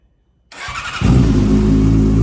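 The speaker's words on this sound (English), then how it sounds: "So let's get the bike started." A cold Yamaha R6 sport bike engine cranks over after a brief silence, then catches and settles into a loud, steady, close-up idle with no talking.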